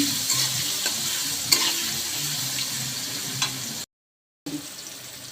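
Dried hilsa fish frying with onions in a pan gives a steady close sizzle with a few light spoon clicks, cut by a brief total dropout near the end before the sizzle resumes.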